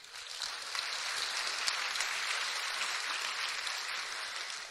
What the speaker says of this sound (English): Please give us a big round of applause for Daylene Reagans.